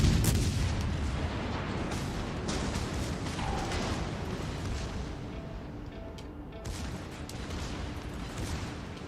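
Warship guns firing in the World of Warships Legends naval game, a dense rumbling barrage of booms and bursts with some louder cracks, continuous over several seconds against heavy background noise.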